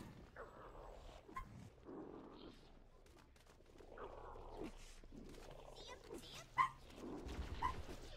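Dogs bark in the background of a gaming session, with agitated yaps and growls that sit under steady, close talking and briefly poke out in a few sharper bursts.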